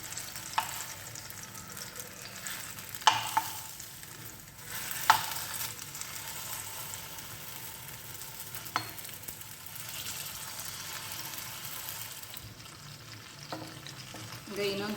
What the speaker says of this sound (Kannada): ಈಗ ಇನ್ನೊಂದು ಸೈಡು ಫ್ರೈ ಆಗಿದೆ